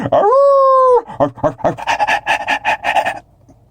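A dog close by lets out a long rising whine, then pants in quick, loud rhythmic breaths that trail off near the end.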